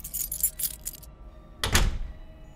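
In an audio drama, a light metallic rattle gives way to a single heavy thunk of a door being locked, close and solid, then fading into quiet.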